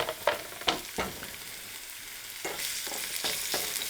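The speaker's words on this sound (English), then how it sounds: "the onion is sizzling in the oil" Onions for a curry sizzle steadily in hot oil, a constant crackling hiss broken by several sharp scraping stirs.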